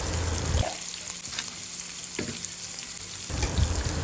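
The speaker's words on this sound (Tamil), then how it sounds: "ஒரு பேனில் ஆயில் ஊற்றிட்டு வெங்காயமும் கொடமிளகாவும் நல்லா ஃப்ரை ஆகிற அளவுக்கு நல்லா வதக்கிக்கோங்க" Onion and capsicum frying in oil in a pan, a steady close sizzle and crackle that swells and eases as the pieces are stirred, with occasional spoon scrapes and no voices.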